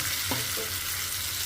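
Okra pieces fry with onions, turmeric and salt over a medium flame, giving a steady, dense sizzle with one brief stirring clack near the start.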